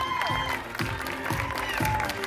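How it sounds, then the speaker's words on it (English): A crowd at a burlesque costume parade claps and cheers briefly at moderate volume, with a voice speaking over the applause. "Give these girls a round of applause."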